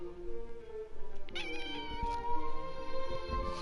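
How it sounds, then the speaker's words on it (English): A cat meows loudly and repeatedly at close range, with drawn-out, wavering cries rising into a caterwaul over a steady background hum. "My cat is watching."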